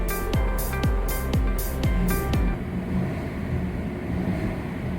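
A 2021 Ford F-150 Raptor 3.5L pickup's exhaust rumbles low and subdued at idle in quiet mode, with a few rhythmic electronic tones repeating at the start before settling into a steady hum.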